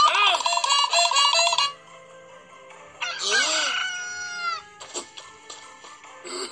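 A rooster crows loudly several times in close succession, with long harmonic calls separated by brief quieter gaps.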